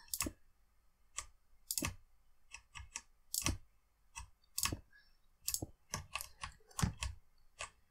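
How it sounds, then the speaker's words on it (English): Sharp, close clicks of a mechanical keyboard tap out in irregular bursts, some singly and some in quick pairs, with quiet pauses between. "It's a brand new one, it's mechanical now. The click should sound a lot better"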